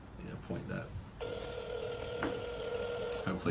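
A phone call rings out as steady electronic ringing tones over a speakerphone held near a microphone, with voices talking over it.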